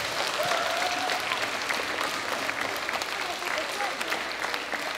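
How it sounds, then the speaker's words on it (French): A crowd at a Rick Hansen Relay community event in Berthierville applauds steadily for about five seconds, a dense wash of clapping with faint voices mixed in. "Alors, une belle main d'applaudissements pour Rick Hansen."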